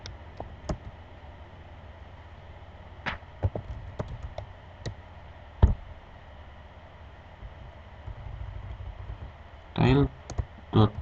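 A bash shell command is typed on a computer keyboard: scattered crisp key clicks at an uneven pace with long gaps, a heavier clatter near the end, close and clear over faint background hiss.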